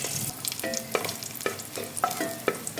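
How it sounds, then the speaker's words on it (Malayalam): Cashews and raisins fry in hot oil in a pan for pulao, a close bubbling sizzle broken by regular scraping strokes of a spoon about every half second, with no talk. "കാഷ്യൂ ഒരു ലൈറ്റ് ബ്രൗൺ നിറമായി വരുന്നുണ്ട് സമയത്തേക്ക് ഇതിലേക്ക് മുന്തിരി ചേർത്ത് കൊടുക്കാം"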